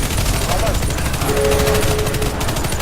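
Dense, continuous gunfire from a video game special operation on Anubis, loud and sustained with crackling shots over a constant roar, no clear pauses.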